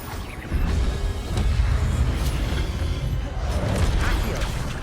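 Incendio fire spell cast in the Hogwarts Legacy video game, a sustained whooshing, crackling burst of flame noise with creaks and pops, fairly loud and steady throughout.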